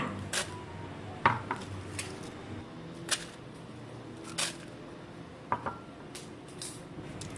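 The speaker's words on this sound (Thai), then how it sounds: "เราก็จะตำให้ทั้ง 3 อย่างละเอียดค่ะ" Pestle pounding white pepper, garlic and dried chilies in a mortar, several sharp thuds scattered irregularly at close range, loud strikes separated by quieter pauses with no talk.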